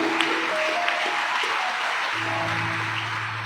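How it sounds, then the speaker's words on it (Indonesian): Congregation clapping for God at an Easter service held at a police headquarters, a loud sustained wash of applause with steady tones from instruments or a sound system sustaining beneath it. "Tepuk tangan yang paling meriah buat Tuhan kita."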